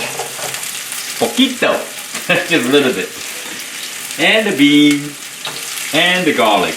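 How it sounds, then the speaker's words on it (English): Chinese sausage sizzles in a pan over about medium heat while being rendered for an egg omelette, a steady frying hiss running beneath a person talking throughout. "Now we're gonna render the sausage."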